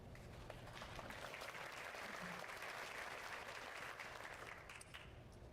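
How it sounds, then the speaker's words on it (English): Audience applause fills a live streamed gaming session, a steady, dense clapping that holds even and fairly faint throughout, with no voices standing out. "I finally got a fucking clap"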